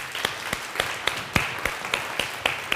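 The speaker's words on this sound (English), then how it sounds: "give yourselves a round of applause" Audience applause at a keynote presentation: steady, brisk clapping from a crowd, loud and close, with evenly spaced sharp claps standing out over a dense wash of hands.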